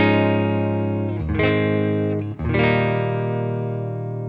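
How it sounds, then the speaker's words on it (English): Clean electric guitar chords through a Seymour Duncan Saturday Night Special neck pickup, three ringing strums with long sustain, the second struck after a short gap and the last let ring out. "I'm going to just play a couple of chords with everything all the way up with a clean sound"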